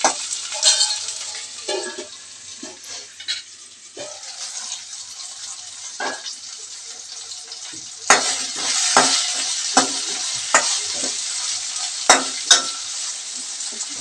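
Tomatoes cooking down in a pan for a village-style bottle gourd chutney, a constant sizzle broken by clinks and scrapes of a spoon stirring, close-up with no voices.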